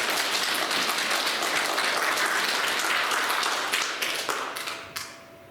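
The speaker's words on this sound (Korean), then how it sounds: "다시 한번 하나님께 영광의 박수 올려드리겠습니다" A church congregation claps together in praise to God, a dense steady applause that holds for about four seconds before thinning into scattered claps and fading out near the end.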